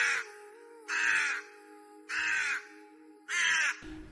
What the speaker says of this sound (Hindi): ये मनहूस कौवा कहाँ से आ गया?